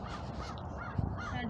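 A flock of crows caws repeatedly outdoors, several harsh calls overlapping in an uneven rhythm, moderately distant and fairly quiet.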